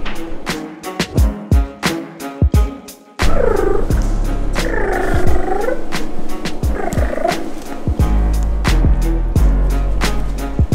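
A domestic cat purrs close up in a continuous rumbling drone, broken by sharp clicks and knocks, with a few brief higher tonal cries in the middle; no speech.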